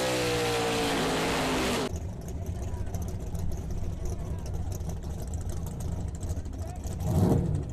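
Drag racing cars at a strip, a loud broadband roar of burnouts for about two seconds, then rumbling engines idling and revving under a public-address commentator's voice.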